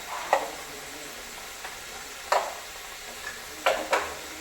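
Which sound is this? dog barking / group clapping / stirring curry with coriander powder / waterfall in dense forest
stirring curry with coriander powder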